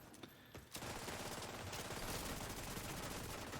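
Sustained burst of rapid enemy automatic gunfire in The Division 2, starting after a brief quieter moment and continuing loud and dense to the end with no talk.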